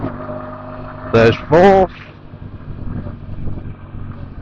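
A Keeway V Cruise 125 motorcycle engine gives two quick, loud blips of revs during a downshift, rising over wind noise, with a rider's voice briefly speaking.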